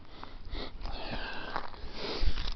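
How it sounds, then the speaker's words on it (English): Someone sniffs at the bark of a ponderosa pine outdoors on a hiking trail, a few close, breathy inhalations over steady low wind rumble, with no talking. "Pardon me, I'm just doing the sniff test."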